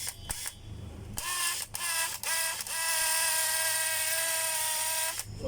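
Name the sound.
DeWalt DCD985 hammer drill running in hammer mode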